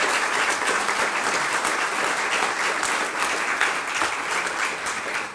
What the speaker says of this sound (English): let's give them all a round of applause for the success of their achievement